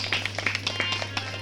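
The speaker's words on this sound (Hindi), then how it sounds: "तालियों के साथ में स्वागत कर दें" Applause from an audience at a Ram Katha religious gathering, a brief burst of many hands clapping steadily at moderate volume over a constant low hum.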